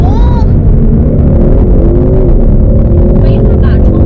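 Inside a Ford Mustang GT with a 5.0 V8 under hard acceleration, a loud, dense engine roar builds with a rising tone, steady and close, with a voice talking over it.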